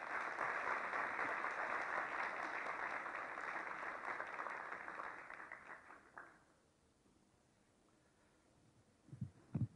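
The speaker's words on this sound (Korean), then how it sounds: "김봉진 의장님을 큰 박수로 환영을 부탁드리겠습니다" Audience at a Korean political forum on digital economy strategy applauds steadily to welcome a speaker, a dense sustained round of clapping that fades out after about six seconds, leaving quiet with a few stray claps near the end.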